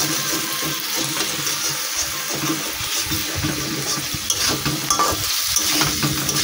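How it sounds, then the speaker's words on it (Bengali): Vegetarian fig curry is stirred in a pan after water is added, giving a continuous watery sizzle and bubbling with soft scraping from the stirring, close and fairly loud. "তো আমি জল দিয়ে দিয়েছি, দিয়ে আমি ভালো করে নাড়াচাড়া করে নিচ্ছি।"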